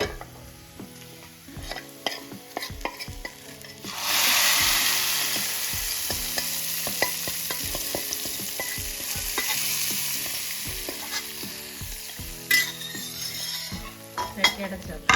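Prawn curry made with coconut milk hits a hot clay pot and sizzles, a steady frying hiss rising sharply partway through, mixed with scattered clinks and scrapes of a spoon against the pot.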